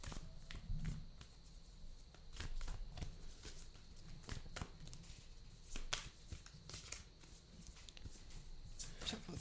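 Tarot cards being shuffled, soft papery riffles and slaps coming in short irregular bursts, close and quiet.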